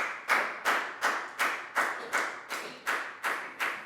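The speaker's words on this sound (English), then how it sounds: "High five and a big round of applause for Dan," A primary school class claps for a classmate in steady unison, about eleven crisp, evenly spaced claps at a quick regular beat, close and moderately loud.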